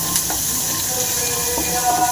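Chopped large onions fry in a pan for beetroot chapati, giving a steady close sizzle with faint stirring scrapes throughout a short stretch.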